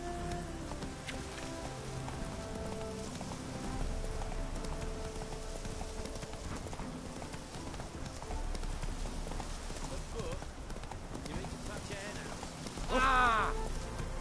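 Roach the horse's hooves clip-clopping steadily in The Witcher 3, a moderate-paced rhythmic trot heard close under orchestral music and character dialogue, with a brief whinny near the end.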